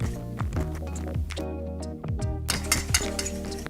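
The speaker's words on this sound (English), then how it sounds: "what we want to do is essentially whisk this together so we don't have a big old clump of miso paste glaze" Miso paste glaze whisked in a bowl for salmon tacos, with steady clinking and scraping of a utensil against the dish, close and continuous with a busy background.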